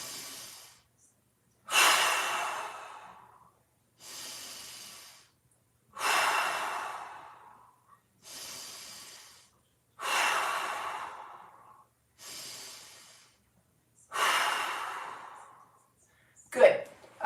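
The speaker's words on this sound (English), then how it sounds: "we're just going to go inhale through the nose and exhale" A person breathes deeply during a mobility workout, drawing slow breaths in through the nose and letting long, audible exhales out, alternating in a steady rhythm of about eight close breaths separated by short pauses.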